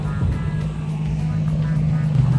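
A Nissan 350Z drives along with a steady low engine drone and tire roar from inside the cabin, constant and fairly loud, while someone talks over it.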